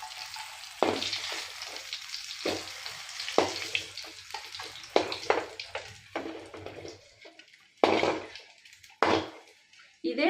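Green chillies frying in oil in a village kitchen, a steady close sizzle broken by several sharp clatters and scrapes as they are stirred and lifted out, with no talk.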